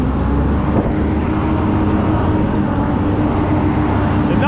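A giant truck's loud engine rumbles right behind a cyclist on a New York City street. The roar is heavy, continuous and close, filling the whole stretch with steady traffic noise.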